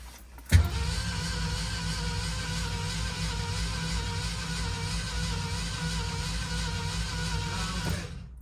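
A 1969 Mercury Cougar XR7 convertible engine is cranked over steadily on the starter during a compression test, a continuous droning churn that starts abruptly and runs unbroken for several seconds before cutting off, heard up close with no talk.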